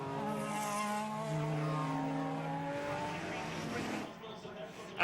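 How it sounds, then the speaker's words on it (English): Ferrari and Porsche race cars on a circuit: sustained engine whine with rising and falling pitch as the cars pass, fairly faint, ending in a sudden louder burst. "On the drag up to the crest, the second Ferrari powered away, but Neil was also under attack from David J"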